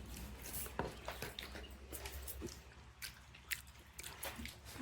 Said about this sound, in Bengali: এই যে ওর বাবা খাচ্ছে।